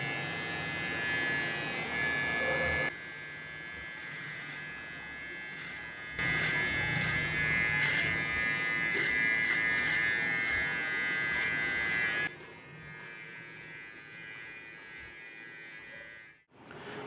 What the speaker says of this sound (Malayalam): നമ്മൾ മീശ എടുക്കാൻ പോവുകയാണ്.